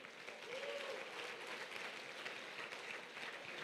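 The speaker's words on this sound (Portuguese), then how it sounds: "Aplaudam ao Senhor." Church congregation applauding steadily throughout, a dense, even wash of clapping from a large room, moderately loud with no pauses.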